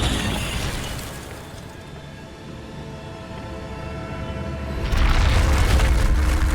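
Roaring whoosh of the Incendio fire spell cast in Hogwarts Legacy, a loud, broad rush that fades and swells, then bursts louder for the final stretch.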